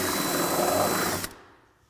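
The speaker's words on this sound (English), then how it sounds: "One more hole to drill in the fender," A drill bores a 3/8 inch hole in a fiberglass fender for a Silverado prerunner, a loud steady whine up close that cuts off after about a second and winds down.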